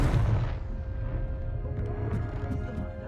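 A Confringo blasting curse explodes in the Hogwarts Legacy video game, a loud booming burst at the start that fades into a rumbling tail with faint game ambience, no talking.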